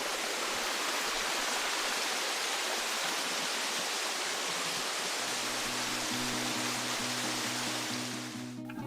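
Waterfall along a levada irrigation channel trail in Madeira, a steady loud broadband rush of falling water filling the whole clip, with a low tonal hum joining in the last few seconds.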